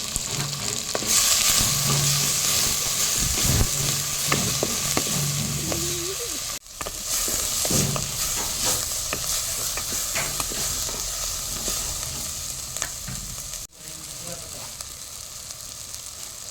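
Chopped ginger, green chillies and tomatoes fry loudly in a hot pan for a home-style chicken curry, a continuous close sizzle broken by scraping stirs and two sharp clunks.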